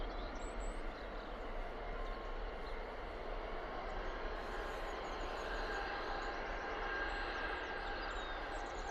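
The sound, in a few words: EasyJet Airbus A320 airliner taking off for Alicante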